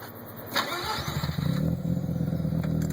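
Mazda RX-7 FC rotary engine on Megasquirt MS3x catching on a start, a sharp crank burst near the beginning followed by a steady, close idle that rises in level and holds.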